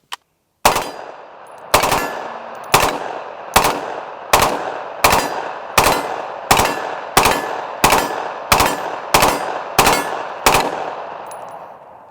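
Rifle fire at an AR550 steel armor plate during a Level III+ body armor test: about a dozen sharp, loud shots evenly spaced roughly a second apart, each with a ringing metallic tail, no talking.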